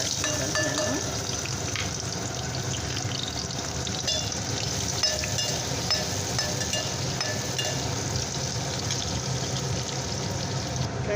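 Onions fry in hot oil in a pan with a steady, close sizzle that continues unbroken throughout, along with the occasional clink of a stirring utensil.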